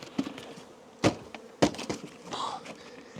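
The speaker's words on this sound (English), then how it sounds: "right here we got a little bit of bees. Let's bump them down." Honey bees in a hive are bumped down with a few hollow thuds and knocks on the wooden box, followed by a swell of close buzzing.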